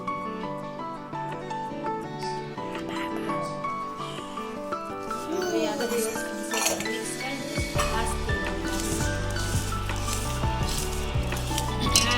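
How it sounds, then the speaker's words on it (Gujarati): Methi muthiya ingredients mixed with oil in a bowl, bringing repeated close clinks and scrapes of a utensil against the dish, with background music playing throughout. "બધા બધી વસ્તુને પહેલા મિક્સ કરી લે થોડુંક તેલ"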